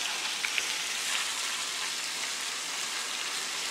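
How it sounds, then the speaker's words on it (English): Tofu frying in a pan gives off a soft, steady sizzle, a continuous faint hiss without a break. "So now, how long should this fry for?"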